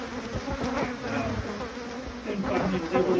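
Bees hum at a backyard beehive near a garden, a close, wavering buzz as individual insects pass the listener and drift away.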